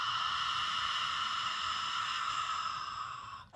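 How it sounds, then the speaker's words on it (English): Open-mouthed breathing exercise: a long, steady breathy 'ha' exhale lasting over three seconds, close and fairly loud, trailing off at the end with no talking. "on the exhale, the mouth is open, nice and wide, and it's a big H-A-ha sound."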